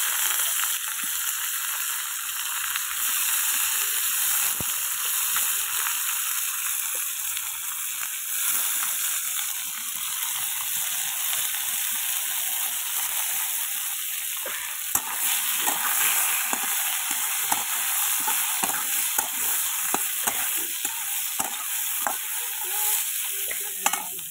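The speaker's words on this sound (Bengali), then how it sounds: "বেগুনটাকে আগে একটু ভেজে নেবো।" Eggplant frying in hot oil tempered with black cumin for a fish curry, a loud continuous sizzle and crackle with occasional spatula scrapes and stirring, no voices.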